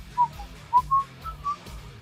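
A person whistles the melody of a song: a short, clear run of separate notes, close and fairly soft, with no talking.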